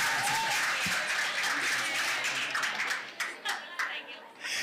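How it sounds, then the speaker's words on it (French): A school audience claps for two classes at a quiz competition, a dense burst of applause that thins into scattered, uneven claps toward the end, with some voices mixed in. "nous vous demandons d'applaudir Les deux classes"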